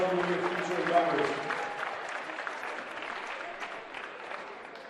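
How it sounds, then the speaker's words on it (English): A crowd applauding steadily at a high school boys basketball senior night, dense clapping that holds throughout and tapers slightly toward the end, with some voices mixed in early on. "please give our outgoing seniors, the class of 2021, another great round of applause"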